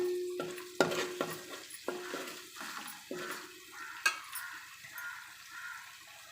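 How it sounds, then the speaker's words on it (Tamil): Whole masala spices crackle in hot oil for paneer biryani, with scattered stirring scrapes and small pops that fade between strokes, close but fairly quiet and with nobody talking. "இப்போ நம்ம போட்ட மசாலா தான் பொரிஞ்சிடுச்சு."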